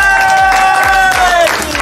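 Brief burst of crowd applause and cheering for a women's floorball team celebrating a division title, loud and close, with a sustained tonal sound that falls slightly in pitch running over the clapping.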